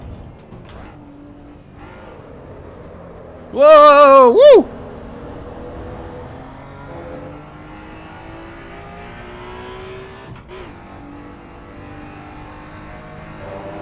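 A 1990s race car in the Assetto Corsa EVO racing game revs hard in a loud, rising and falling burst, then settles into a steady engine drone under brief excited exclamations.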